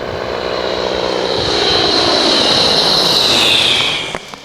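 A 1930s Ryan STM monoplane converted to a wheeled undercarriage, its engine droning loud and steady with a rising whine before it cuts off abruptly near the end.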